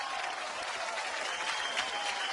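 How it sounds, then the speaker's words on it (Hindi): Studio audience applause at a Hindi comedy show hosted by Kapil Sharma, a dense steady clapping that stays loud and even for about two seconds with no talk over it. "इनके लिए जोरदार तालियां हो जाए।"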